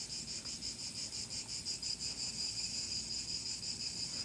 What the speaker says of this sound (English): 4K cicadas singing a midnight sun